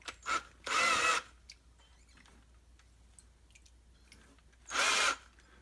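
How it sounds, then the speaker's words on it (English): A screw gun used as a drill whines in two short bursts, spinning the shaft of a 1977 Evinrude 15HP outboard motor. The bursts are separated by near silence with faint clicks. "grab my screw gun, attach our drill"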